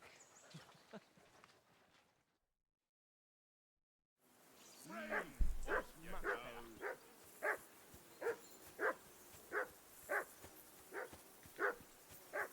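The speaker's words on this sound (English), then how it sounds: "Jesus, Henry, that barking's driving me nuts." A dog barks repeatedly in a steady rhythm in the video game Kingdom Come: Deliverance 2, about a dozen sharp barks spaced evenly, after a brief stretch of quiet and some softer movement sounds.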